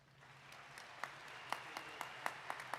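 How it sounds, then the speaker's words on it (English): Scattered applause at a 2021 Skyview High School graduation ceremony honoring staff, with individual claps spiking over a steady crowd murmur, moderately distant in a large venue. "Let's give our staff a round of applause."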